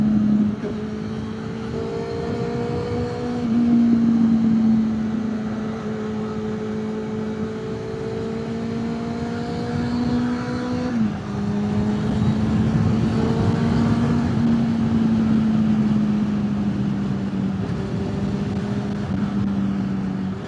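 A Honda CB400 motorcycle hums steadily under the rider, its exhaust droning close and constant for twenty seconds, with pitch shifts as it changes speed and gears.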